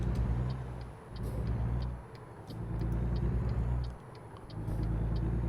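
A light truck in a trucking video game drives along a highway, its engine droning in a loud steady rumble that swells and dips in rhythmic waves, with faint ticking above and no talk.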